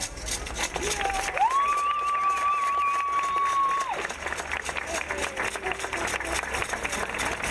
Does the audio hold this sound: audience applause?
yes